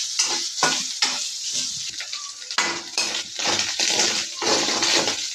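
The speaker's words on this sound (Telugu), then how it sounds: "అడుగంటుతుంది, అడుగంటుగా కలుపుకుంటూ ఉండాలి." Food in a pan is stirred so it doesn't stick, with repeated scraping and clinking utensil strokes against the metal over a steady sizzle, close and fairly loud.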